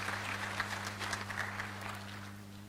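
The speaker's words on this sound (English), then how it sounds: "Another round of applause as our speakers leave the podium." Faint audience applause in a hall as speakers leave the podium after a human rights talk, soft scattered clapping over a steady electrical hum that thins out toward the end.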